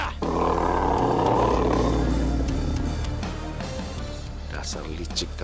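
Tigers roaring in an Indonesian drama, a loud sustained roar that fades over several seconds, mixed with music and effects and ending in brief noise bursts.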